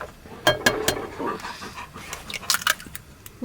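A dog pants quickly and steadily inside a camper van kitchen during baking, close and breathy, with a few faint whimpers mixed in.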